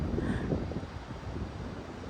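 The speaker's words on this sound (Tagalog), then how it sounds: "Hindi pala tahimik ang dagat. Malakas ang alon." Strong ocean waves wash onto Yamba Main Beach as a steady, broad roar of surf, heavily mixed with blustery wind buffeting the microphone, at a modest level with no voices.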